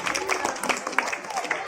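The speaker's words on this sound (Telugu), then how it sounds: "ఇక్కడ మీదుగా ఈ యొక్క ప్రశంస క్లాప్స్ కొట్టాలి నాన్న" School students clap at a National Voters' Day event with revenue officials, a short burst of close, scattered handclaps over a murmuring room, with voices mixed in.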